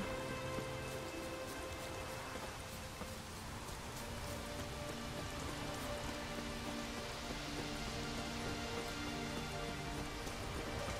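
Rain falls continuously in the rugged Skellige isles of The Witcher 3, a loud unbroken wash of drops with soft musical ambience beneath, steady from start to finish and without voices.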